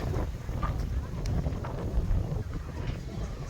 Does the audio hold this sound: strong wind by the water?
yes